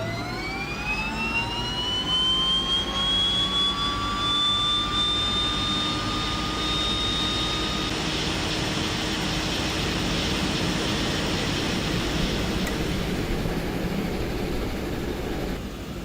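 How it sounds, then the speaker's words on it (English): Turbine whine from a DHC-6 Twin Otter's turboprop engines spooling up on start in Microsoft Flight Simulator 2020, a rising tone that levels into a steady loud drone over constant engine rumble, with no talking. "we've got a good start on engine number 2"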